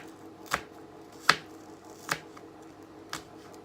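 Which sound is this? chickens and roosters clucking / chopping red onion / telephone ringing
chopping red onion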